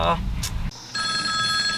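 A telephone rings with an incoming call, a steady electronic ringtone starting partway through and holding near and loud over low rumbling background noise.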